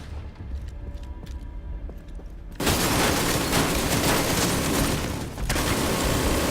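An ammo stockpile detonating in the video game The Division 2: after a quieter stretch of background noise, a sudden loud roar of crackling explosions bursts in and keeps rattling.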